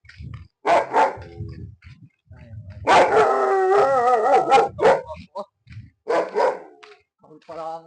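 A dog barks and howls outdoors in a neighborhood, loud bursts of barking followed by a long drawn-out howl, close by, with people talking around it.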